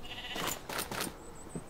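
Several short sheep bleats in a Minecraft-style farming game, quick calls bunched close together at moderate volume with no talking over them.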